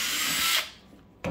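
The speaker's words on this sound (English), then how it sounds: "and you'll drill these holes in here." A power drill drilling holes in a Milwaukee Packout crate whirs at high speed for about half a second, winds down, then a short second burst of drilling follows.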